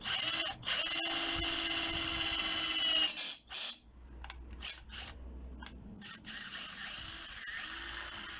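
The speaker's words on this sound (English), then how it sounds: "That's my pilot hole in." A hand drill bores a pilot hole while a compound bow is built from household scrap: a loud, close whine runs steadily for about three seconds, then breaks into short stop-start bursts as the bit works through.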